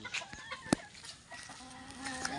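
A Sweater Kelso cross gamefowl rooster gives soft, scattered clucks around a farm pen, with one sharper call standing out. The sounds are fairly faint and sit among light background noise.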